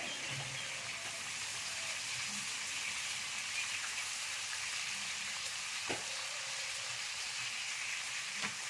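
Food frying in a pan at home, a steady hissing sizzle like light rain, moderately faint and unbroken, with a couple of soft knocks and no talking.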